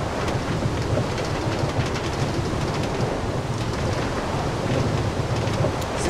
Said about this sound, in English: Since when did they have sound effects? For like the minecart.